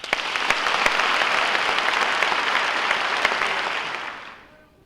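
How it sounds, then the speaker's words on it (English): Audience members at a book festival clap together in a thick, sustained round of applause that starts at once, stays loud and even, then fades out over the last second. "Clap if you've seen the movie."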